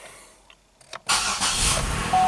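A Buick LaCrosse with the 3800 engine cranks briefly after a few faint clicks, catches instantly and settles into a steady, close idle with a broad exhaust rumble.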